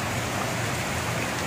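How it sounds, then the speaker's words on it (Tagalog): Heavy rain pours in a steady, dense roar with no break, loud and close, during a flooding downpour; no talking. "Ano ba ito na ulan?"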